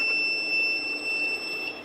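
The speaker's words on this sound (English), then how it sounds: "You have heard a sound of beep." The capacitive touch panel of a Chirag CRG-1008 laser therapy unit sounds a faint, steady electronic tone, held evenly throughout with no voices.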